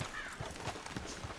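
Horses in Red Dead Redemption 2 walk along a wooded path after the riders dismount, their hooves clopping in a soft, uneven rhythm amid faint forest ambience.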